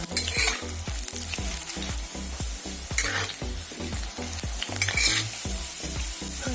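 New potatoes frying in hot oil in a pan, a steady loud sizzle broken by repeated scraping stirs of a utensil against the pan, close and continuous with no talking.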